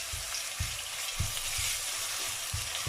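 Garlic paste sizzles in hot oil with browned onions, a steady crackling fry broken by soft periodic knocks of stirring, moderately quiet and with no voices.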